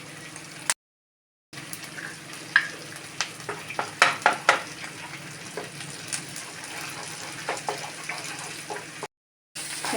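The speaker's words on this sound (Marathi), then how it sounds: "एका साईडला तेल टाकले त्याच पॅन मध्ये आणि आपण ना 2 अंडी ना फ्राय करून घेऊ" Two eggs frying in oil in a pan while making egg noodles, a steady close sizzle with scattered crackles and pops, broken by two brief silent gaps.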